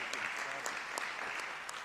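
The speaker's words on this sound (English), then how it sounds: "I'll give you a clap." A council meeting audience applauds after a mayoral election, a steady burst of many hands clapping at moderate distance, filling the room for about two seconds.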